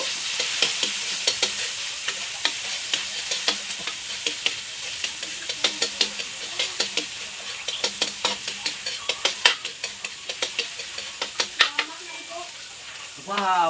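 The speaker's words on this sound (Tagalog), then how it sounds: "Una po, bawang. Sunod po, sibuyas at sal." Garlic and onion fry in a pan, a constant bright sizzle punctuated by many rhythmic clicks and scrapes of a utensil stirring, close and fairly loud.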